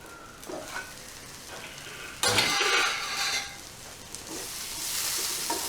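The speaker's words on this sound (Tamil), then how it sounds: "எல்லாம் சேர்த்து நல்லா வதங்கணும்." A tomato rice mixture sautés and sizzles in a pan, quiet frying hiss broken by scraping stirs and a louder burst of sizzle midway, with the frying hiss building again near the end.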